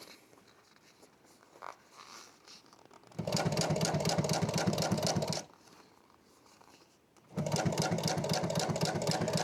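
A sewing machine stitches around a fabric corner in two loud, rapid mechanical bursts separated by a short quiet pause. Faint handling noises are heard between the runs.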